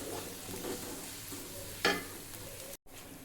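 Garlic ginger paste fries and sizzles faintly with golden onions in a pan, a low steady crackle broken by one sharp stirring scrape, with no talking.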